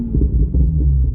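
A 2020 Toyota Supra fitted with a PCW exhaust modification starts up, giving a loud, deep rumbling idle that throbs steadily and close by, with no talking over it.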